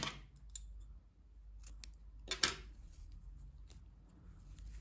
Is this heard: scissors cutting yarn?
yes